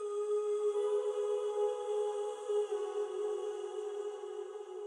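A sustained vocal pad for a sad electronic track, a breathy sung tone held steady with soft upper shimmer, fairly loud and continuous, with no beat or talking over it.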